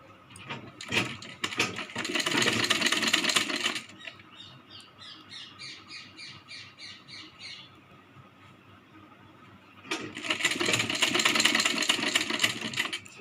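A sewing machine stitches a Rajputi kanchali in two loud, steady runs, one at the start and one near the end. A quieter stretch in between carries faint high chirps.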